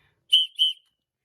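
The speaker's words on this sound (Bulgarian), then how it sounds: "това е свирка, ако не вярвате" Small 3D-printed plastic whistle blown twice in quick succession, two short shrill toots in near silence.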